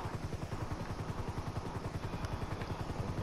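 Steady rhythmic chopping drone of a helicopter in flight heard from inside the cabin, a loud continuous pulse with faint clatter and no speech.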